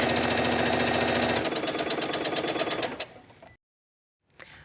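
A sewing machine stitches the side seam of a child's vest in a fast, steady mechanical hum and rattle that slows into distinct pulses, then stops, with a brief click afterward, close and loud.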